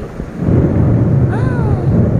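Loud, low thunder rumbles outside during rain, building after a quieter start and holding steady to the end, with a faint rising tone briefly over it.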